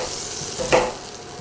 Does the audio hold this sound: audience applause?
no